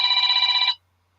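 A telephone bell rings in a steady, rapid trill for under a second, loud and close, then cuts off into silence.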